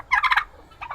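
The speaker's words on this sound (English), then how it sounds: "That old turkey hen, she quit sitting." A turkey hen on a farm with pigs and young poultry gives a short, close burst of gobbling, then a brief pause and a quieter second burst at the end.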